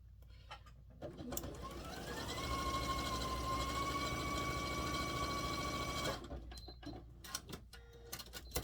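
A sewing machine whirs in a steady run for a few seconds while sewing a table topper, with a rising motor tone, framed by handling sounds and quiet speech before and after.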